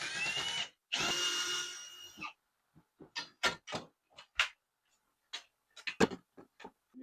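A cordless power drill driving screws into an RV wall panel, with two long whirring bursts followed by a string of short, sharp clicks and taps, close and without speech.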